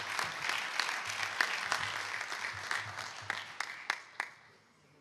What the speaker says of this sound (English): let's give a round of applause to these three individuals for their contributions